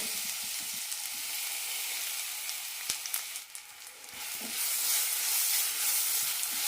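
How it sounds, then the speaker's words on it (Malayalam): Chopped banana frying in a teaspoon of ghee in a pan, a steady close sizzle that swells louder toward the end, with a few sharp stir clicks in the middle. "പാനിലേക്ക് ഒരു ടീസ്പൂൺ നെയ്യ് ഒഴിച്ചിട്ടുണ്ട് ഇതിലേക്ക് പഴം മുറിച്ചതിടാം"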